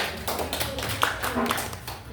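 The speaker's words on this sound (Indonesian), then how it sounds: "Tepuk tangan dulu." A short burst of quick, uneven clapping from a small group of children in a classroom, mixed with voices talking over it.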